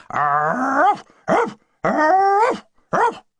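Someone imitates a snarling dog: two long rasping growls, each followed by a short sharp yelp, loud and near.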